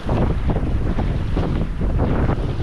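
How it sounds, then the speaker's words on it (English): Steady wind buffeting a sailing boat on a squally passage toward the Baltic Sea, a loud continuous roar and rush filling the whole stretch with no pauses. "the wind is changing angle"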